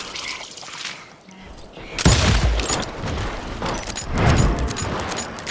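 Gunfire in the Western shooter Call of Juarez: Gunslinger: loud bursts of shots and booming blasts break in at about two seconds and keep going in dense, overlapping volleys, after a quieter lead-in.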